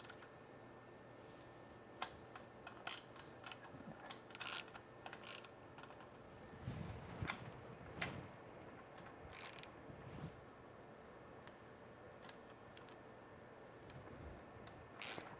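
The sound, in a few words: socket wrench with extension tightening bolts on vacuum system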